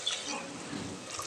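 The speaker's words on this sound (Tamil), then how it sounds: "அதுக்கு நாம் 2 டம்ளர் தண்ணி ஊற்றிக்கலாங்க" Water is poured into a pressure cooker pot to cook rice for mint pulao. It makes a soft, continuous splashing stream, fairly faint and close, with no voices.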